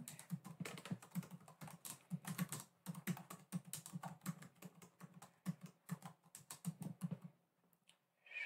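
Soft, close typing on a computer keyboard, a quiet run of irregular light key clicks and taps that continues steadily before stopping near the end.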